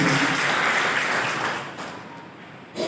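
An audience at a school alumni reunion gives a broad wash of applause. It starts strong, then gradually thins and fades over about three seconds.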